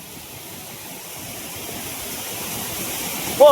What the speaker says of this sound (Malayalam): താഴത്തേക്ക് ഒഴുകി പോകുന്ന ഈ ആ വെള്ളച്ചാട്ടത്തിന്റെ ഭാഗം